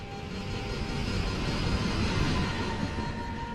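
The airliner of Chicago's Flight 191 drops nose-down in a dive, its jet engines giving a steady, loud, broad roar that swells slightly midway and never lets up.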